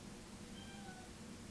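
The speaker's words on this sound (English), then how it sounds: "She's like outside the door meowing" A house cat meows from outside a closed door, a faint, drawn-out cry or two heard muffled at a distance over quiet room tone.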